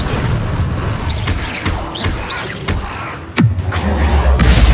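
An Incendio fire spell cast in the video game Hogwarts Legacy, a loud booming blast amid a continuous roaring, crackling combat din with scattered impacts.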